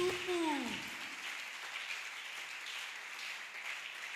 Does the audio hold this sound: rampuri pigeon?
no